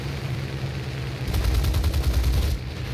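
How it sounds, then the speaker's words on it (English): Rapid gunfire at a plane in the War Thunder video game, a fast burst of repeated shots over loud engine drone, lasting a little over a second, with no talk. "someone is trying to shoot a rocket at me."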